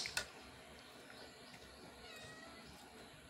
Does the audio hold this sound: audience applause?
no